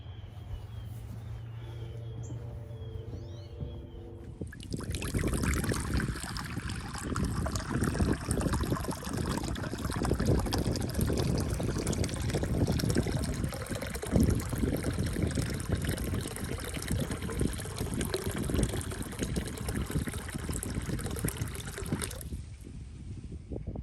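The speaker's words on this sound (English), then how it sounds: "so I've got me some water here to fill up their bird baths." Steady, broadband splashing and gushing of water poured into a basin, starting after a few seconds of quiet and running continuously until near the end.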